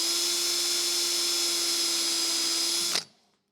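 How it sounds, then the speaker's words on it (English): A power drill bores through a part during a Fiat Dino restoration, giving a steady high-pitched whine for about three seconds that stops abruptly and leaves near silence. "put a drill through from behind to give me, so I drill through here"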